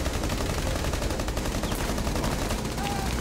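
Sustained automatic gunfire in Rainbow Six Siege during a ranked match, dense overlapping rounds firing loudly and continuously with little pause, players' voices partly buried beneath the shots.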